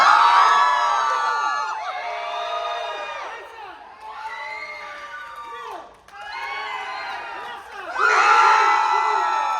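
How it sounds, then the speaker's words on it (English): A convention audience at a Terrifier horror panel cheers and whoops in loud, close waves, swelling and dipping several times over nearly ten seconds with no talking over it. "Make them cheer for you guys. Left side!"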